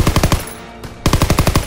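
Machine gun fire in the Call of Duty WWII game during a World War 2 D-Day mission: rapid, loud bursts of evenly spaced shots, one burst at the start and another after a short pause, close and dominant.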